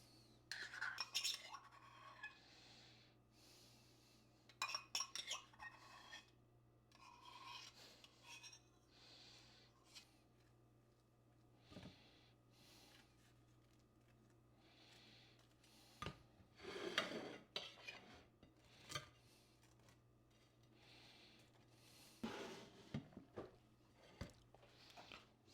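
Cutlery scrapes and clinks against dishes while a spread is worked onto each piece of prepared food, a string of soft, close scraping and tapping bursts with quiet gaps between them.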